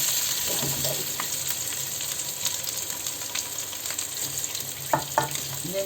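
Eggs frying in a pan, a continuous close sizzle with a few sharper crackles and spatters near the end, heard alone without talk.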